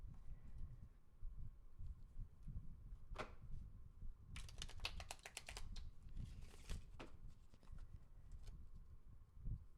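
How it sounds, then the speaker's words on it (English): Quick riffling bursts of tarot or oracle cards being shuffled for a reading, crisp flutters repeating in a couple of clusters, close by over a low background hum. "I'm going to shuffle the cards for the next reading."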